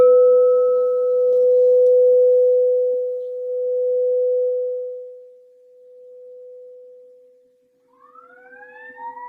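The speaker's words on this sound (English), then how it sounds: "I'm first going to use my sound bowl to clear and set the energy for you guys" A sound bowl rings with a single steady, pure tone that sustains and gradually fades over several seconds; a rising wail begins faintly near the end.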